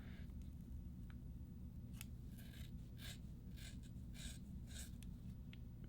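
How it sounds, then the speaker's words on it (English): Scissors snip hair in a home haircut, a series of sharp, fairly faint clicks spaced irregularly over a steady low background hum, with no talking. "cut my own hair here until the scale tips"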